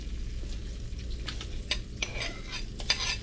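Melted butter heating in a pan on medium heat, a close continuous crackling sizzle with a low hum beneath and occasional clinks and scrapes of a utensil, with no talking.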